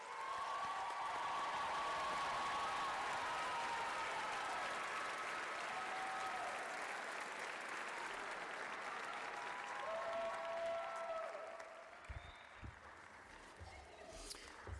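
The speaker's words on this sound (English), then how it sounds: "Please join me in a round of applause for these graduates." Steady, sustained crowd applause honors graduates at a winter commencement ceremony, a broad wash of clapping that holds evenly for many seconds before thinning slightly near the end, with faint voices mixed in.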